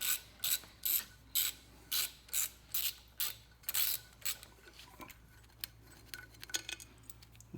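A hand ratchet clicks rapidly in repeated bursts while loosening the pulley nut on a 1976 Chevy 350 engine, about ten even strokes followed by slower, scattered metallic clicks and small knocks.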